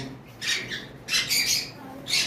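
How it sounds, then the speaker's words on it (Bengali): A pair of tame conure parrots gives three harsh, close squawking bursts separated by brief pauses. "আমাদের কাছে একজোড়া টেম করা কোনোর পাখি রয়েছে"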